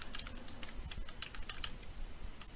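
Soft, quick typing on a computer keyboard, with a series of faint clicks spread irregularly across the moment and no speech.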